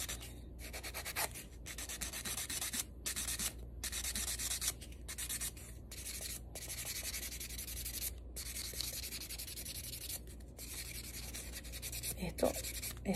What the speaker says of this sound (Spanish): el tema de limar las uñas